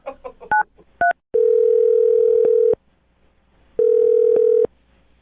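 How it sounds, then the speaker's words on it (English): Telephone handset sounds: a few quick keypad beeps followed by two long, steady dial tones separated by a pause, clear and close with no talking. "I'm going to dial the phone number, get him on the phone, and find out why he's not calling you back"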